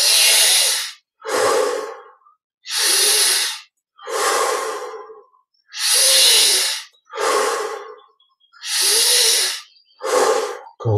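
Deep breaths during a guided energy-recharge meditation: eight slow, loud inhales and exhales in an even rhythm, each a breathy rush of air separated by short silences, close to the microphone with no talking.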